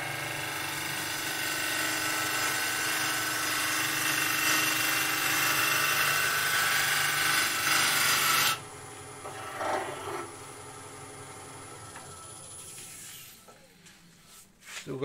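A wood lathe turns a goblet while a tool cuts shavings, a loud continuous raspy hiss for about eight seconds that then drops to quieter scraping and faint rubbing.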